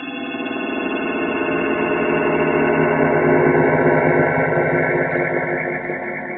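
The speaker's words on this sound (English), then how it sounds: "how it sounds exactly like the sun." Sonified vibrations of the sun form an eerie, sustained harmonic drone with layered tones and a slow shimmer, steady and unbroken throughout, with no voices.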